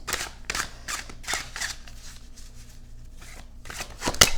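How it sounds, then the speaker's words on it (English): Illuminated Tarot cards being shuffled by hand, a run of quick crisp riffling bursts close up, then a pause and a final sharp snap of cards at the end. "I'm just going to shuffle 3 times and take 2 cards"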